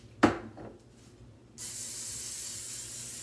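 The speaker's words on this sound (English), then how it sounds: "we want to heavily, heavily coat it with some cooking spray" A short hiss of cooking spray into a bundt pan starts after a faint knock and continues steadily, close and fairly quiet, with no talking.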